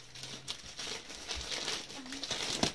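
A large plastic mailing bag is opened by hand, crackling and crinkling steadily and up close for nearly three seconds, the plastic rustling continuously with a few sharper tearing crunches.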